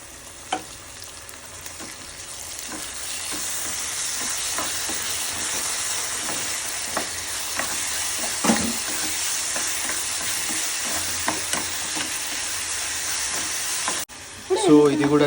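Poppy seeds and cashews sizzle and fry steadily in a hot pan for a biryani masala, with occasional stirring clicks and scrapes over the continuous crackle before it cuts off near the end.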